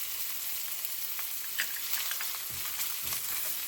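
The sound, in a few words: ginger, garlic and scallion whites frying in pan for stir fry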